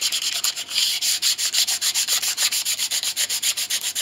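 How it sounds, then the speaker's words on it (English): Rough sandpaper rubs back and forth on a wooden piece during restoration of an 1867 Chickering 33B piano, a loud, close, rhythmic scratchy rasp with quick regular strokes throughout. "A little rough sandpaper."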